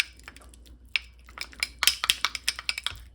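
Spoon scraping and clinking against a small dish while sour cream is stirred with another ingredient for a single-serve dog cake, a quick series of close, sharp taps and scrapes growing more regular toward the end, with no talking.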